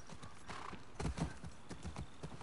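Horse hooves clip-clopping in the video game The Last of Us 2, a close, rhythmic run of hoofbeats with a brief whinny mixed in.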